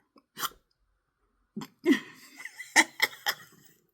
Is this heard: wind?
no